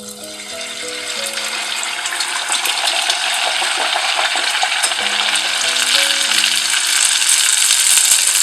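Yeast dough sticks (youtiao) deep-frying in hot oil at 180°C, a loud, steady crackling sizzle that builds slightly and continues throughout with no one speaking.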